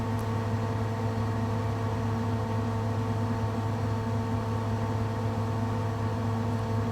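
Farm tractor engine in Farming Simulator 15 on the Sosnovka map at harvest time, a steady low droning hum holding constant at moderate level throughout, with no talk over it.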